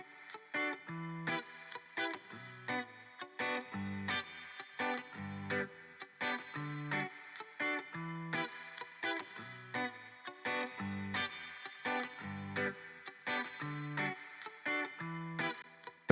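An electric guitar runs through an Amplitube amp simulation with spring reverb, playing a rhythmic, distorted chord pattern in steady bursts, each strum followed by a short shimmering tail, fairly quiet with no talk.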